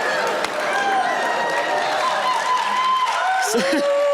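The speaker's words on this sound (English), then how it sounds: "Some of that applause feels sarcastic" A television studio audience at a magic competition show claps and cheers in a steady wash of applause, with voices shouting and talking over it throughout.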